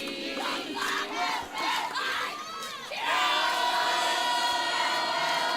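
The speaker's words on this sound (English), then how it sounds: "Big crowds." A big crowd roars and cheers at a high school football game between Oneida and GP, with a dense, continuous wall of shouting and whistling voices that swells louder partway through.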